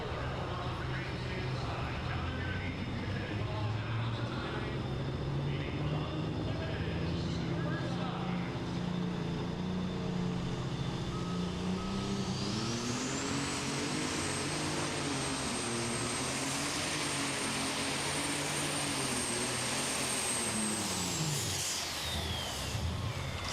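An unlimited superstock tractor pulling a sled at an outdoor Goshen competition roars loud and steady, its turbo whine rising to a high sustained scream as the engine bogs and revs, with an announcer talking over it.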